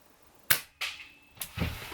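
Gunshots aimed at a bullseye target: three or four sharp, fairly faint cracks spaced about half a second apart, each with a short decaying tail.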